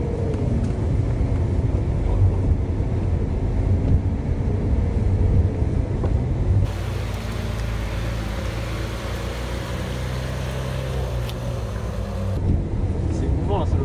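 A Lamborghini supercar's engine, a steady low rumble heard from inside the car as it drives, with people talking over it throughout.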